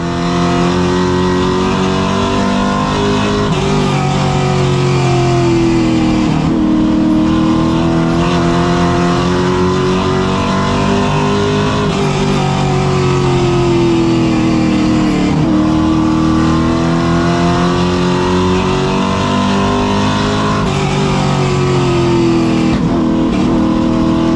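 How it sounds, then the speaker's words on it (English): Stock race cars roar around Hickory Speedway, a dense, loud, continuous engine drone with rising and falling pitch as the cars accelerate through the turns, broadcast commentary faintly underneath. "down here in 3 and 4, this is where Boo really has the momentum"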